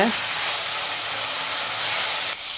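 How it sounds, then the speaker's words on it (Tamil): Gongura leaves sauté in a pan, giving a steady close hiss of sizzling steam that holds evenly and eases slightly near the end. "இது இன்னும் நல்லா வதங்கி வரணும் கீரை"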